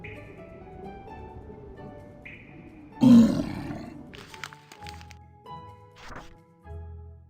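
A sudden deep, growling ogre roar bursts out loudly over soft background music in a Puss in Boots interactive storybook game, then fades into scattered thuds and clatter.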